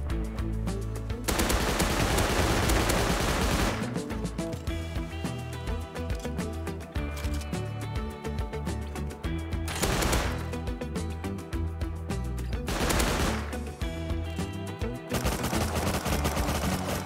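Gunfire in the survival video game Rust: rapid bursts of automatic shots and single loud cracks, repeated over and over with brief pauses between volleys, close and loud throughout.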